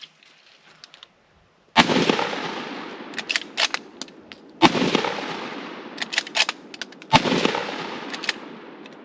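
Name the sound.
FrankenRifle faux jungle carbine rifle shots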